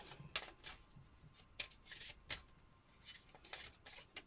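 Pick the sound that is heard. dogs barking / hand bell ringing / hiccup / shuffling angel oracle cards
shuffling angel oracle cards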